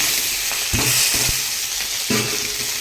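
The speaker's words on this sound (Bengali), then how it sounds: "5 ফোড়নটা হয়ে গেছে, এবার সবজিটা অ্যাড করলাম।" Mixed vegetables for gajaghanta hit hot oil just after five-spice tempering, sizzling steadily and loudly with a few sharp clanks of a spatula stirring them in the pan.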